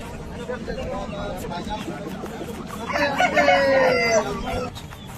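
An Aseel rooster, a fighting breed about one and a half years old, crows loudly nearby in a drawn-out call in the second half, amid clucking fowl and people talking.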